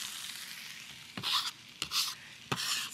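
Carrots, celery and onion frying in melted butter in a pan, a soft steady sizzle with three quick stirring scrapes near the end, close and fairly quiet.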